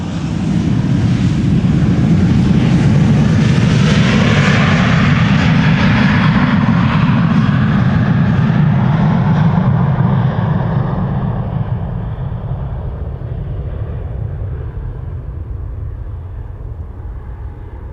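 A jet airliner departing Amsterdam Schiphol Airport roars loudly up close, a sustained broadband engine rumble that swells and sweeps in pitch as it passes, then gradually fades into the distance.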